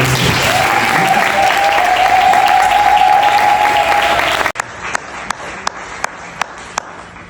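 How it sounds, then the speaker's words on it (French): A large audience applauds loudly and steadily at a spiritual gathering, the broad clapping cutting off abruptly and giving way to a handful of sharp, evenly spaced claps. "Nous allons demander l'assistance d'acclamer encore plus fort."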